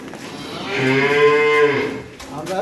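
A single long, deep moo from a nearby dairy cow on a farm in Narsingdi, rising and falling over about a second, with faint background noise.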